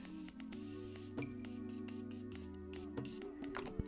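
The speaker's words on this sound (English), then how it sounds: "So I'm going to take a little setting spray" Several short hissing spritzes of makeup setting spray onto a face, sharp and close, over steady background music.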